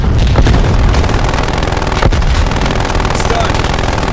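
A frag grenade blast amid a loud Call of Duty Black Ops Cold War match, with dense, continuous gunfire and booms filling the whole stretch and one sharp explosive crack standing out near the middle.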